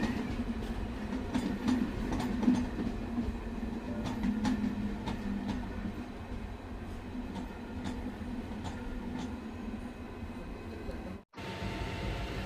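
A MEMU train running from Tumakuru to KSR Bengaluru passes through a junction with a steady rumble and rhythmic wheel clatter on the rails, loud and continuous throughout with no talk.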